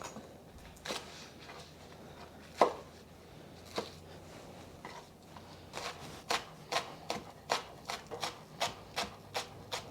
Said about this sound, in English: we have 2 green onions that I'm just going to chop up.